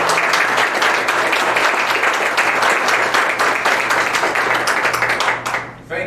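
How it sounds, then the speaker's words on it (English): Residents at a township trustees' public meeting give a round of applause, a loud and even wash of many hands clapping together for about six seconds, a low hum underneath, trailing off briefly at the close. "give Bruce a round of applause for putting on"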